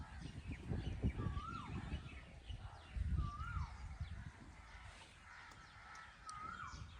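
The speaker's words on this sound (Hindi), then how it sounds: "बाग में कोयल गुनगुना रही है" An Asian koel calls three times at evenly spaced intervals in a village garden after rain, each call a short rising then falling note. The calls carry at moderate distance over rustling background noise.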